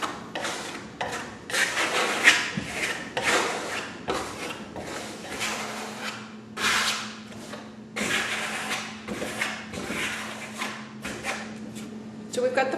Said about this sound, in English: when you're loading up your trowel, you just have a nice little pile on your hock and you just want to run it straight off